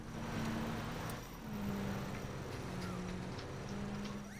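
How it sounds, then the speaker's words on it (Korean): A vehicle engine drones steadily in PUBG, a low humming tone that rises and holds as it draws nearer, running under quiet background ambience. "어, 차 소리."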